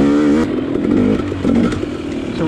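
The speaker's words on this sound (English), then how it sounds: "So we're just riding some faster, flowy stuff." KTM XC dirt bike ridden on a fast, flowing trail, a loud close engine note with shifting revs and clattering over rough ground.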